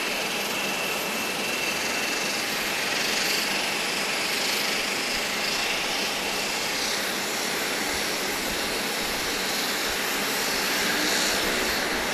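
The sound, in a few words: Cayman Airways Express aircraft engines warming up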